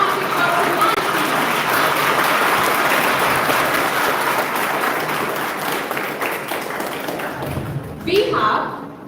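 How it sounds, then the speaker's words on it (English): A school audience at a live event at a public college claps in a steady, dense round of applause that carries on for about nine seconds, with a faint murmur of voices underneath before it thins out near the end. "please give a big round of applause for such dynamic, versatile, and charismatic personalities"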